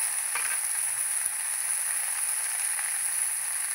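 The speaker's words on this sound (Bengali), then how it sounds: "ভেন্ডিগুলো কিন্তু আমি প্রথমে ভেজে নেব।" Okra frying in very hot oil in a pan, a steady, soft sizzle with faint crackles and occasional stirring, quiet and even throughout.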